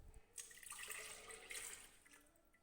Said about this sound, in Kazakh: Блендерге алдымен сүтімізді құйып аламыз.